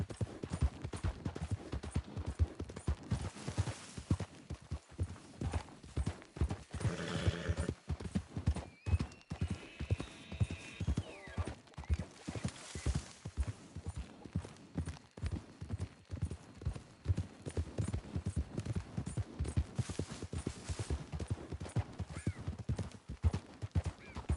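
A horse gallops in a PS4 video game, rapid rhythmic hoofbeats running continuously throughout with a brief whinny, up close and steady.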